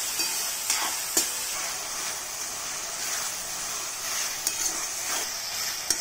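Large chopped onions sautéing in a pan, a steady close hiss of frying with a few faint stirring taps, no voices.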